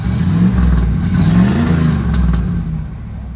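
A Camaro IROC-Z with open headers, barely running on three-year-old gas, rumbles loud and close with a steady rough idle that swells in a brief rev near the middle before settling back down.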